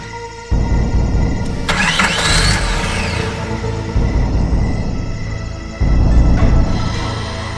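A car engine turns over again and again without catching, with repeated bursts of grinding starter and engine noise separated by brief dips, loud and close.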